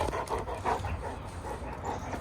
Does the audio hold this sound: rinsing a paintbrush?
no